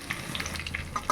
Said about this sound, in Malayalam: ഉലുവ മൂത്ത് കഴിയുമ്പോൾ ചെറിയ ഉള്ളി, ഇഞ്ചി, വെളുത്തുള്ളി എന്നിവ ഇട്ട് നമുക്ക് മൂപ്പിക്കാം